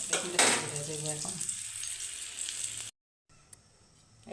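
Eggplant frying in a pan, with a fairly loud sizzle at first and a sharp clatter near the start. The frying stays steady, then cuts off briefly before a quieter sizzle comes back.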